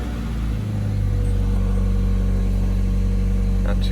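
A 1995 Mazda Miata with freshly replaced spark plugs and wires starts cold and settles into a steady, even idle, its engine hum close and loud throughout, with a brief rise in revs near the start.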